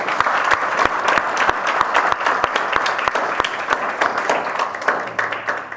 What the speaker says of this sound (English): Can I kindly ask all of us to join me in a round of applause to all presenters and